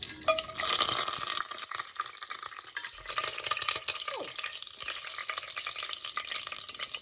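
Cumin seeds added to hot oil and stirred in a pan for chana pulav, with a steady sizzle and frying crackle under repeated scraping stirs of a utensil, close and continuous, without talking.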